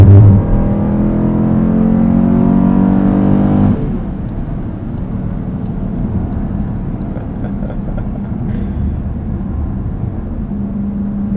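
A 2020 Dodge Durango SRT being driven, its engine revving loudly with a rising harmonic whine before dropping off sharply to a steady lower road and engine rumble from inside the cabin.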